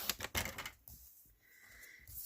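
A paper trimmer slices designer series paper in a brief, quick, close scraping stroke, followed by a faint sliding hiss and then quiet.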